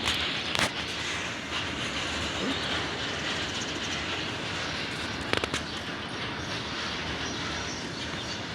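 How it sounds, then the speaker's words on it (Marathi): A petrol tanker train passing nearby, heard from a rooftop terrace as a continuous loud rumbling roar that stays steady throughout, with a couple of brief sharp clanks. "बघा पेट्रोलची ट्रेन चालली बघा"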